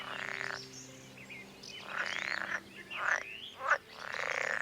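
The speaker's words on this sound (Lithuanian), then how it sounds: "Kūdrinės varlės poravimosi metu išpučia žandus ir pro burną išleidžia orą ir dar kurkia." Pool frogs croak during mating in a series of loud, buzzing bursts, four main rasping calls with short gaps, close and alone against a quiet outdoor background.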